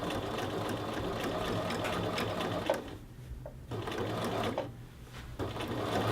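A sewing machine edge stitching a men's shirt collar band runs in a steady close whir, pausing briefly twice before resuming, with no talking.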